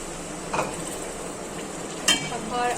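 Soft sizzling and stirring of green chili paste frying in a pot for chicken biryani, with a couple of clinks of a utensil against metal.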